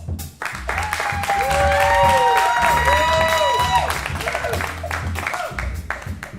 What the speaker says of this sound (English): Tell me with your applause.